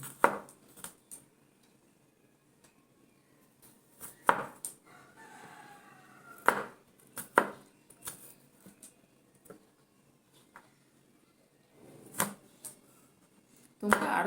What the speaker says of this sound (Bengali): ছোটো ছোটো করে কাটতে পারো